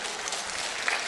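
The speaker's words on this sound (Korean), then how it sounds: "부러워서 박수 치는 거죠?" Audience applause at a pastors' seminar, a dense wash of clapping from many hands, fairly loud, for about a second.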